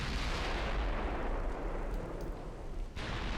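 Naval gunfire in Ultimate Admiral Dreadnoughts rumbles as a dense, continuous roll of booming shots and explosions, with small warship guns firing at a high rate.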